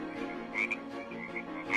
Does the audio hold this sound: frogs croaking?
yes